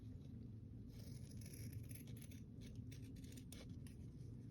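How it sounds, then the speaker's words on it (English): Scissors trim the edge of a manila folder journal in a few close, scraping snips over a steady low background hum, with no voices. "So I'm going to trim this down just a wee bit"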